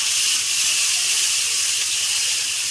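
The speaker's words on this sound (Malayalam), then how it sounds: "അപ്പോൾ ആ എണ്ണയുടെ അകത്തായിട്ട് സവോള ഇട്ട് കൊടുക്കാം." Sliced onions hitting about 100 ml of hot oil for a beef fry give a steady, close, loud sizzle that holds evenly throughout with no talking.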